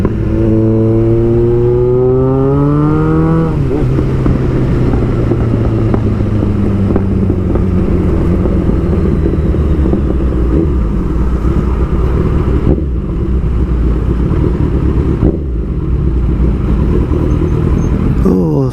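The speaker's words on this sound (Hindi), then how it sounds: "Oh, सुबह सुबह बाइक का मेला." A Kawasaki Z900 and other superbikes ride on a road, with one engine revving up in rising pitch and then sweeping down, followed by a steady loud engine drone and wind rumble.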